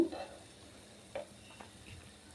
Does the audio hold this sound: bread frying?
yes